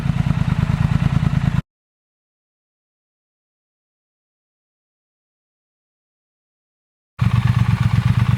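A Triumph Thruxton RS motorcycle with Verex slip-on mufflers idles close by with a deep, steady throb, cut off by a long stretch of silence before resuming.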